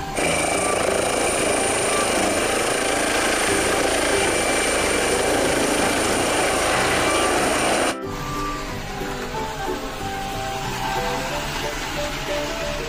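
A toy helicopter or helicopter sound among toy vehicles such as a Monster Jam car, giving a loud, steady whirring drone that runs unbroken for about eight seconds, then drops to a quieter, different texture.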